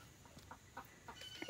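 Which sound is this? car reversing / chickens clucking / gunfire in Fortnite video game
chickens clucking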